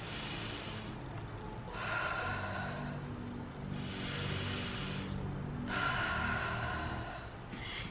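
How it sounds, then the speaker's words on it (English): Slow, deep meditation belly breaths close up, with four long airy inhales and exhales alternating in a steady rhythm and no talking. "So when you're breathing, you wanna be breathing like,"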